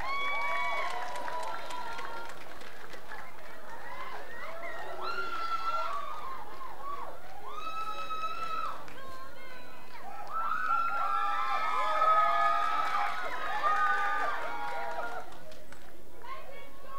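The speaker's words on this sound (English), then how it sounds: "Everybody, a round of applause for Golden Cultural Troop." Audience applause and cheering for the Golden Cultural Troop at a cultural day event, a steady crowd roar with chatter lasting throughout, moderately loud and continuous.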